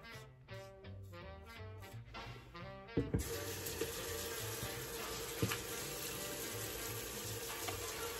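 Water runs from a tap during cleanup after a shave with Victory Shaving Company Flak Bait soap, a steady rushing stream that starts abruptly and continues loud, following a stretch of music.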